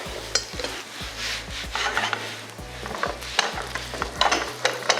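Food frying and being turned in a pan while a harira-style Ramadan meal is cooked, with steady sizzling and repeated scraping, stirring strokes of a utensil against the pan, close and moderately loud with no talk.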